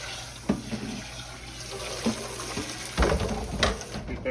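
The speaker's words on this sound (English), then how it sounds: "let me rinse this to get this soaking in" A dish is rinsed under a running kitchen tap while peaches are being cooked, giving a steady moderate rush of water broken by a few louder splashes as the dish moves through the stream, with no talking.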